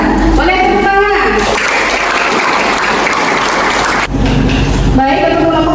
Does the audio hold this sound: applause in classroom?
yes